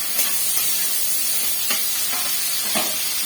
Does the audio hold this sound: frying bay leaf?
yes